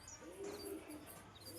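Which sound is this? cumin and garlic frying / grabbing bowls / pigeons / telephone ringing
pigeons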